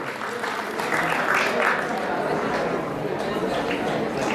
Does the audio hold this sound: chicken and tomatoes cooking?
no